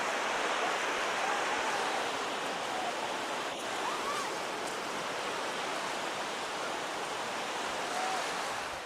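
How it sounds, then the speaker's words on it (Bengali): Big sea waves at Bakkhali beach make a dense, continuous roar of surf at steady loudness throughout, with no speech. "এত বড় বড় ঢেউ আমার লাইফে কোনোদিনও দেখিনি।"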